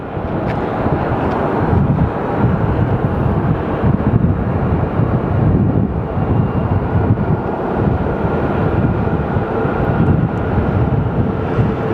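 A FedEx airplane at Sky Harbor Airport makes a steady, loud, broad roar that holds for the whole stretch, with gusty wind buffeting the microphone.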